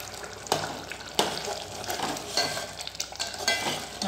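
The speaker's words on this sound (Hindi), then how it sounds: "ये देखो, हम इसी तरीके से इसे फ्राई करते रहेंगे। ये हम फ्राई कर रहे हैं।" Masala paste sizzles in an oil-filled pan while a spoon scrapes and stirs it, giving sharp scraping strokes about every half second or so over a constant close crackle.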